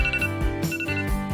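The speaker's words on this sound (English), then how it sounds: "let's shut off this alarm!" An alarm rings loudly and close, a bright electronic beeping tone repeated in quick bursts with no talk over it.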